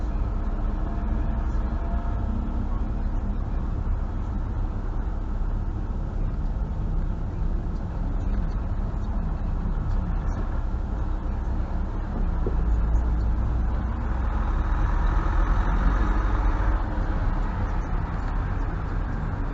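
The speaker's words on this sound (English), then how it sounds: "And you hear that, the whining of the gears." Triumph TR7 from 1980 with a five-speed gearbox, driving along with a steady engine drone and a faint mechanical gear whine running throughout; the whine and road noise swell somewhat near the end.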